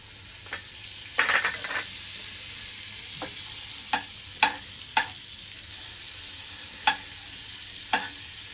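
A spoonful of butter sizzles in a pan, a soft steady hiss broken by several sharp spoon scrapes and taps against the metal at irregular intervals, no talking.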